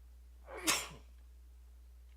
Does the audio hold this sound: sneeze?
yes